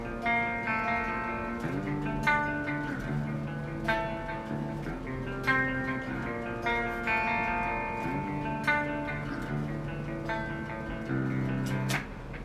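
Electric guitar played through a Line 6 Pod X3 Live with reverb added, clean sustained chords and melodic lines ringing out with a soft wash of tail, played alone without talk.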